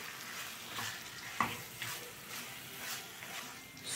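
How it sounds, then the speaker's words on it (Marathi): Mashed smoky eggplant for baingan bharta is stirred in a hot pan, soft scraping strokes repeating every half second or so over a quiet sizzle, with one sharper clink of the spoon against the pan, close and fairly faint. "व्यवस्थित मिक्स करून घ्यायचं आहे आपल्याला."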